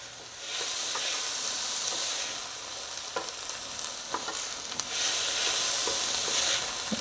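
Greens sautéing in a pan lightly coated with oil, a steady bright sizzle with soft stirring scrapes and small crackles throughout, close and alone with no talking.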